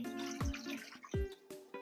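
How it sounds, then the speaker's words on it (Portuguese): Water poured into a large cooking pot to start a vegan coxinha dough, heard as close splashing and dripping in short bursts with a few sharp drops, no talking. "para começar o preparo da nossa massa, eu vou acrescentar a água"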